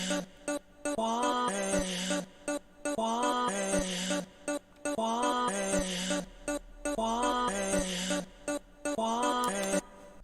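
A remix drum pattern built from rearranged sample slices of a pop song, chopped into a repeating loop with regular hits and short gaps between phrases, playing alone at moderate level.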